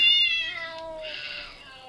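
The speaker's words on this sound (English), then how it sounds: "Furious cat." A cat meowing from the Cat Piano app, one long drawn-out tonal meow that rises then fades, clear and close with no talking.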